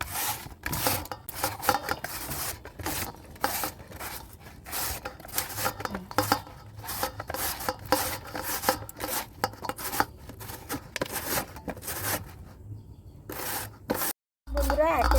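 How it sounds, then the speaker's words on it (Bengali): Potatoes hand-grated into long shreds for Bengali fried potatoes, heard as steady repeated rasping and scraping strokes at close range, fairly continuous with brief gaps near the end. "বন্ধুরা, একে একে এইভাবে আলুগুলোকে দিদি চুড়ে নিচ্ছে।"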